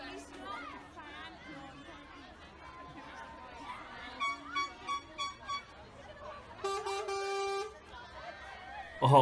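Car horns honk repeatedly amid busy street chatter at the Waunarlwydd Carnival, a series of short toots followed by a longer blaring honk, with crowd voices underneath.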